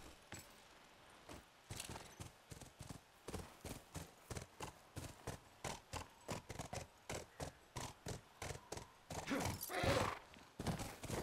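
Horse hooves clip-clopping in the video game The Last of Us, a steady run of distinct, evenly spaced hoofbeats, fairly close and moderately loud, with a brief louder rustle near the end.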